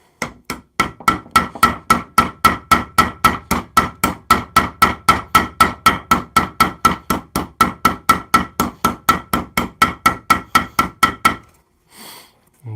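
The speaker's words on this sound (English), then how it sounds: "I've peened down the rivet" A hammer peens down a rivet at a forge, with about forty sharp, evenly spaced metallic strikes at a steady quick rhythm, close and loud, ending in a brief pause.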